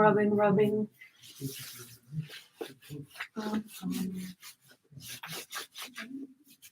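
Hands rub together during a tango warm-up, a dry, soft swishing friction that comes in short bursts, with a voice speaking over it close by.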